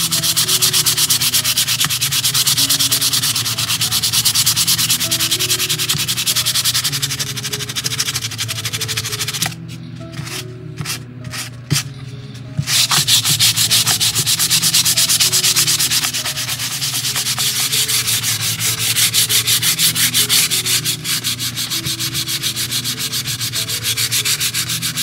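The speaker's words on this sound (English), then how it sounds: "I'm gonna need another piece of sandpaper because the grit's going on this one." Sandpaper rubbing steadily over the hull of a 1:400 scale model of the freighter S.S. Edmund Fitzgerald, a continuous close scratchy rasp that pauses briefly near the middle before resuming.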